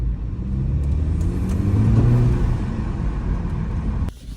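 A BMW G20 engine with a modified stock intake, in comfort mode, rumbles and revs, a deep throaty drone swelling slightly in the middle before cutting off abruptly near the end.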